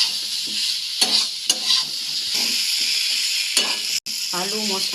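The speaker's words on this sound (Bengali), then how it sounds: "এখন এর মধ্যে দিয়ে দিচ্ছি ভেজে রাখা আলুগুলো দিয়ে আবারও ভালোভাবে কষিয়ে নেব।" Fried potatoes and spices stir-fried in a pan for broccoli masala: a continuous close sizzle with scraping stirs and a few sharp spatula knocks against the pan.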